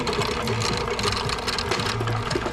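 A fly line winding machine spools line onto a fly reel in a tackle shop, giving a steady, loud mechanical whir with a rapid sewing-machine-like chatter that runs without a break.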